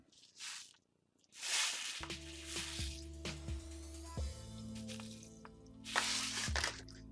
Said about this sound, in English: The fork is my agitator, and I mix that water up